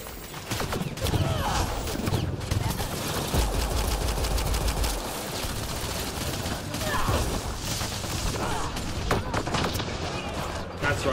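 Rapid gunfire in Mass Effect Andromeda, bursts of crackling shots in quick succession, mid-distance and moderately loud, with someone talking over parts of it.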